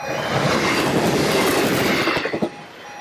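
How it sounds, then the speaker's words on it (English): Train rushing past close by, a loud dense roar of wheels on rails that fades away at the end, no voices. "the train passed"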